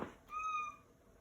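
A cat gives a single clear, close meow with a slightly falling pitch, lasting about half a second after a brief soft rustle, with no one talking.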